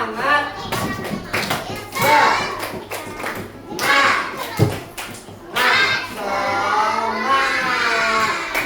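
A class of children chanting and clapping together in a rhythmic 'tepuk semangat' routine, loud and close, with voices and hand claps mixed through the whole stretch.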